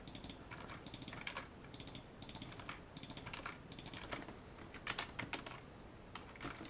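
Code being typed quickly on a computer keyboard, with rapid bursts of crisp key clicks, close and fairly quiet, with short pauses between runs and no speech.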